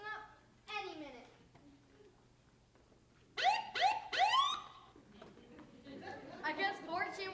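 A police car siren sound effect plays during a middle-school drama performance, wailing in a few rising and falling sweeps that blend with children's excited chatter and speech in the room.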